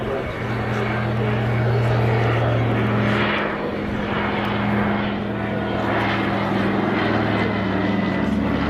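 A Catalina seaplane's propeller engines drone steadily and loudly in a continuous low hum, with no breaks and the tone shifting slightly partway through.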